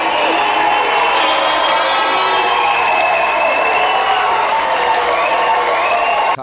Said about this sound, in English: Let's have a big round of applause for both of our contestants!